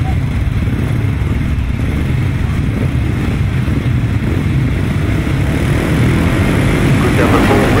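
Grasstrack racing motorcycles in the 375cc class rev hard together at the start line, a loud, dense, continuous engine roar that holds steady throughout.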